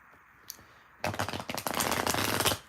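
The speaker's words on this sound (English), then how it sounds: "I'm gonna go ahead and just see what comes out, then I'm gonna cut the cards" Tarot cards shuffled by hand: a brief faint flick, then a dense, close riffling flutter lasting about a second and a half before stopping.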